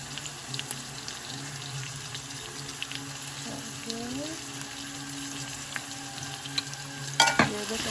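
Potatoes frying in a pan, a steady low hiss and crackle holding at a constant level, with a brief clatter near the end as they are stirred.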